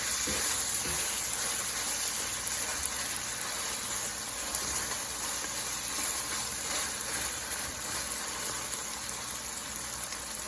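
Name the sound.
beef stir fry frying in a pan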